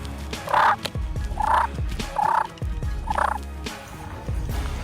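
A wild turkey gobbles four times in quick succession, each a loud, rattling burst close by, separated by short pauses over a low outdoor background.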